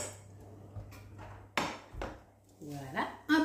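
Frying pan taken out in a home kitchen, a few separate metallic clanks and knocks of cookware against a surface, close and sparse, with a low steady hum beneath.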